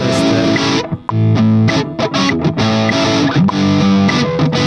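An electric guitar played through a distortion effect at home, loud, heavily overdriven chords and notes in a choppy rhythm with short gaps between them.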